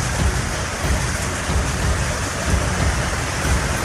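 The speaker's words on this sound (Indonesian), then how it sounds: "hujan deras disertai angin kencang terjadi di kota Pekanbaru dan sekitarnya" Heavy rain mixed with hail pounds down in Pekanbaru amid strong wind, a loud, dense, unbroken roar with irregular thuds of ice striking surfaces.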